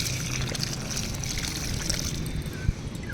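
Water trickling and splashing as potted plants are watered, a steady close pour with a brief splash near the end.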